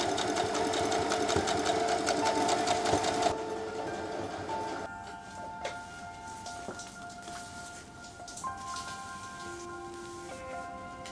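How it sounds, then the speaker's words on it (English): A sewing machine stitches a jacket lining seam for a Chanel-style tweed jacket, running in a fast steady whir at first, then stopping and giving way to quieter intermittent mechanical clicks and handling sounds. "This is then brought over to the machine and stitched down."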